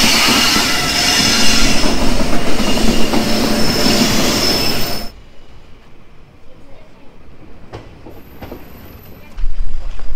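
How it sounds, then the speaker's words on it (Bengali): The Haldibari–Kolkata tri-weekly Intercity Express pulls into a station with a loud rolling rumble and squealing wheels for about five seconds, then drops to quieter platform ambience before noise rises again. "নির্ধারিত সময়ের থেকে 3 মিনিট লেট করে আমাদের ট্রেন এসে পৌঁছলো।"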